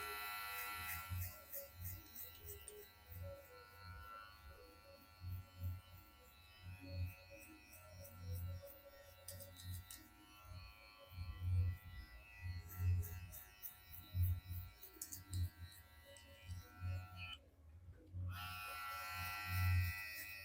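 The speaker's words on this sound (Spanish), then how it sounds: "nosotros no vamos a pasar la máquina recto, sino vamos a pasar en sentido contrario del cabello" An electric hair clipper buzzes steadily through a high fade, pulsing as it is run against the direction of hair growth in short, repeated strokes, close and continuous.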